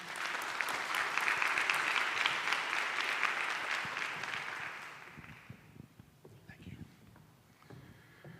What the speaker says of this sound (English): Everyone, please help me give a round of applause to our moderator